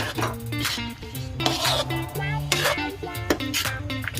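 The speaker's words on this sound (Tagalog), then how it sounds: "So, haluin lang natin guys hanggang sa ano natin yung biskotso dyan" A spoon knocks and clinks against a pot while beef mechado with biscuits is stirred, making repeated metallic scrapes and clatters close up. Background music plays underneath.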